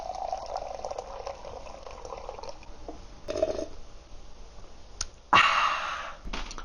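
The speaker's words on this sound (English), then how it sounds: "Water's boiling in the water jacket." Water simmers and bubbles quietly in the water jacket of a small cubic wood stove inside a cabin, a soft, steady boil with a few brief clinks and a louder burst of hiss toward the end.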